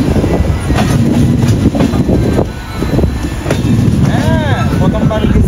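Kandari Express train rolling through a curve from the main line toward Digha, with steady loud rumble and rail clatter, a wheel squeal rising near the end, and faint voices underneath.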